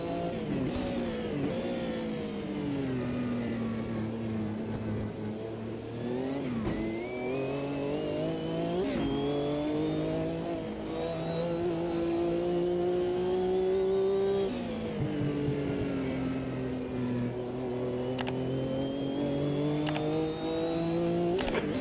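An Automobilista 2 race car engine revs hard on an in lap to the pits with high fuel mapping, rising through gears with repeated upshifts, loud and continuous.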